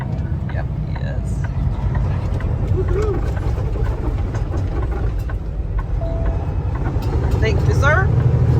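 Steady broadband road roar of cars passing a truck on I-65 through Indiana, heard from inside the cab, a continuous loud rumble that swells toward the end, with faint voices underneath.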